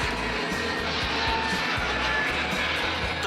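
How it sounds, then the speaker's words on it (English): An airplane drones overhead in San Diego as a steady, broad engine roar that fills the whole moment, loud and unbroken, with no speech over it. "The plane's flying overhead,"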